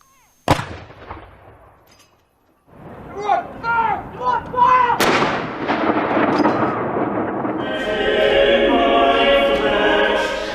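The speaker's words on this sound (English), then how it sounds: "Followed in every one of the home nations by a single shot." A single ceremonial gunshot fired to mark the end of a national minute's silence after a royal funeral at Windsor: one sharp, loud outdoor boom that rolls away, with voices and crowd murmur following it.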